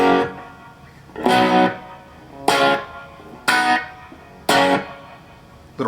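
Electric guitar played through a Blackstar ID Core amp preset with reverb: four loud, distorted strummed chords ring out about a second apart, each trailing off into a short reverb tail, with no talking.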